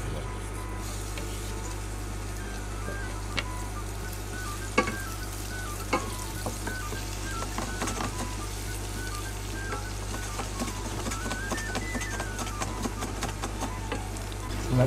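Garlic and onion fry in oil in a pan for rice, a steady close sizzle with stirring clinks and scrapes running throughout, no talking.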